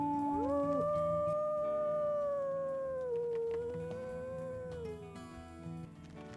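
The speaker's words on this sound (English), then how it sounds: "let's go ahead and howl just because I think we need to mark up this territory anyways" A wolf in the game WolfQuest lets out a long, sustained howl that rises and slowly bends downward, close and loud, with a second voice joining partway through, and no talking over it.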